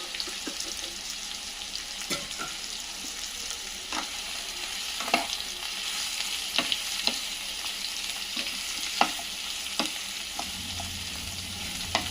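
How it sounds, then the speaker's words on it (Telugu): Boiled jackfruit pieces frying in a pot for jackfruit biryani, a constant bright sizzle with irregular scrapes and taps of a ladle stirring, heard up close with no voices. "పనసకాయ ముక్కలు వేస్తున్నాను"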